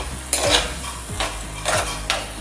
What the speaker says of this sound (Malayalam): 5 മിനിറ്റ് ശേഷം നമുക്കിതൊന്ന് തുറന്ന് നോക്കി ഒന്ന് ഇളക്കുക